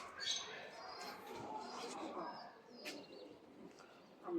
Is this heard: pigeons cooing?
yes